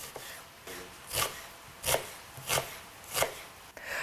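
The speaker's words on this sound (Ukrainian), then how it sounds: "ми швидесенько нарізаємо цибульку" Onion being sliced into half rings with a knife on a board, four or five evenly spaced, crisp chops close by, with quiet rustling between them.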